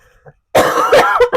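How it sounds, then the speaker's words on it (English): A faint throat sound, then a loud, close hacking cough followed by two short coughing bursts. "I'm sorry, I have to cough again."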